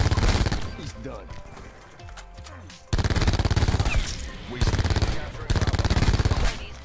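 Rapid automatic fire from the Scorpion weapon in Call of Duty Black Ops 4 comes in several loud, dense bursts separated by short pauses, with game sounds and a player's voice around the shooting.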